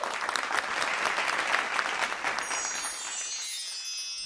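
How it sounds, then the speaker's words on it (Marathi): Applause from an audience at a Mangalagaur festival stage performance, a dense wash of clapping sustained for several seconds at moderate distance, slowly thinning toward the end as a faint tone rises. "त्यामुळे टाळ्या."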